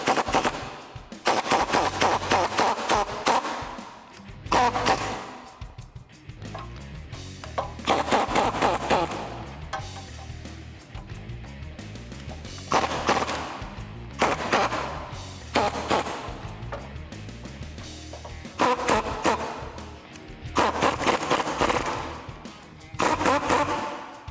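A pneumatic impact gun with a 17mm socket on a universal joint spins off the top strut nut of a 2015-2020 Ford F150 front shock, sounding as loud repeated hammering bursts of rattling with short pauses between them.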